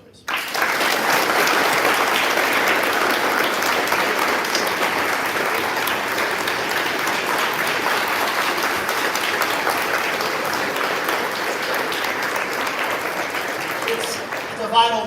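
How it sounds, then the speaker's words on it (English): Sustained applause from a large audience at the 2024 American Legion Boys Nation senator oath of office, a dense steady roar of clapping lasting the whole stretch and fading slightly near the end. "Round of applause for Corey, please."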